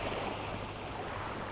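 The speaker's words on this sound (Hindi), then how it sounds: "लहरों का चपल शोर" Sea waves wash in a steady, dense rush of surf as a radio play sound effect, filling the whole moment with an even roar and no voices.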